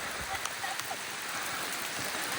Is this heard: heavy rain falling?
yes